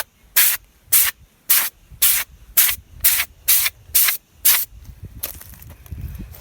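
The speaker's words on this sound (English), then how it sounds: "He's got an air blower on this end, which is really awesome." Air blower on a tyre airline, with the valve still in the tyre, fires about nine short, evenly spaced hissing bursts to blow dust from a cabin filter, close and loud, then a rougher rush of air.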